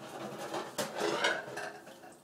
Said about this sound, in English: I'm losing my mind here trying to get the dishes done.